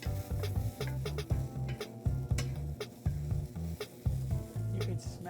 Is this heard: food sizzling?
yes